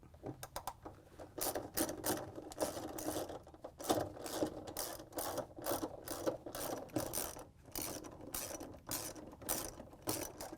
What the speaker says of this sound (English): We're going to use a ratchet with a 3/8-inch socket.